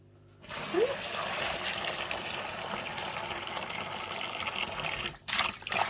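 Apple mash for cider is poured through a clean tea towel, giving a quiet, steady liquid gush and trickle lasting several seconds before a brief clatter near the end.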